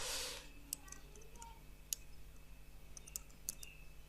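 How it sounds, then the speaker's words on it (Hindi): A name is typed on a computer keyboard during Gmail account setup, heard as a few sparse, faint, close key clicks spaced irregularly over a quiet background. "तो मैं अपने नेम को टाइप कर देता हूँ"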